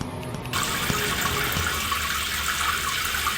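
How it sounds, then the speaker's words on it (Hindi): Tap water runs steadily into a bathroom sink or basin, a continuous hissing splash that starts abruptly about half a second in and stays loud and unbroken to the end, with no voices. "पूजा दौड़ती हुई बाथरूम की तरफ जाती है और देखती है तो पता चलता है पानी वापस आ गया है।"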